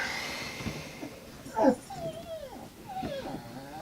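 A pet dog whimpers indoors in a few short, high, wavering whines spread over a few seconds, with one louder yelp-like cry partway through, no talking.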